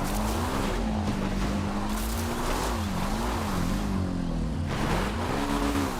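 Motorbike engine in Grand Theft Auto's Cayo Perico, a steady droning hum whose pitch rises and dips as the bike is ridden and throttled, continuous and fairly loud with no talk.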